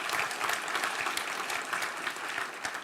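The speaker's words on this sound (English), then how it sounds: "Could we have a round of applause for James Tang and his work of art" Conference attendees at an Asia-Pacific circular economy forum applaud an artist and his artwork, with a steady patter of many hands clapping at moderate volume, continuous and without talk.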